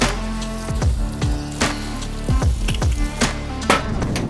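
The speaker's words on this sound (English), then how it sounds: "when you crack the eggs, we've got some grease in the fucking pan that we can actually use to cook the eggs" Eggs frying in leftover bacon grease in a pan, a close, loud, continuous sizzle and crackle with repeated sharp spits and pops, no voices.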